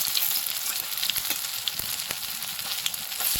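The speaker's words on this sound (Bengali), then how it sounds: "তার জন্য একদম আস্তে আস্তে ভাজতে হবে।" Raw banana and egg batter frying slowly in a pan, a steady soft sizzle with faint crackles and a few light clicks of utensils, close by with no talking.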